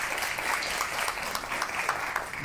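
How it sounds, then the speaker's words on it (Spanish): Steady applause from an audience at a morning housing conversatorio, many hands clapping in a dense, even wash throughout. "Un aplauso, por favor. Un aplauso por ustedes."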